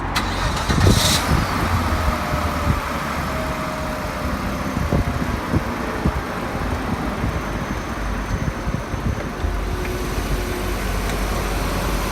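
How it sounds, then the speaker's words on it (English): A Volvo 960 with a 3-litre, 24-valve straight-six engine starts up, with a brief cranking burst at the start, then settles into a steady, loud, close idle with no talking. "shall we start start it up and have a look at the engine?"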